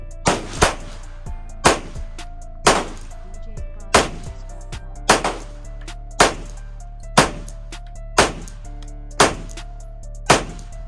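A Stoeger STR-9C pistol fires alternating brass and steel case rounds: about ten loud, sharp shots at a slow, even pace outdoors, each followed by a short echo.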